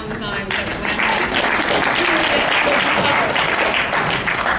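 Sustained applause from a convention panel audience at Awesome Con DC 2013. The clapping swells quickly after a brief quieter start, then stays dense and loud throughout.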